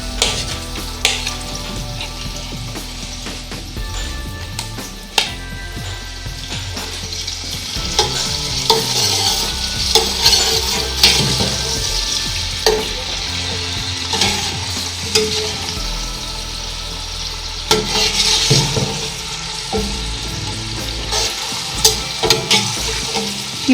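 Two medium sliced onions frying and being stirred in a pot, with loud, continuous sizzling and repeated scraping and clanking of a spoon against the metal throughout.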